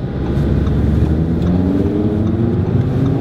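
A five-cylinder Audi RS3 Sedan exhaust drones steadily and loudly, a low, continuous rumble with slight wavering in pitch and no talk over it.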